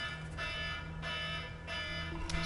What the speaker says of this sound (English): On my phone I have like the red alert, like the sci-fi red alert, because it makes the most noise.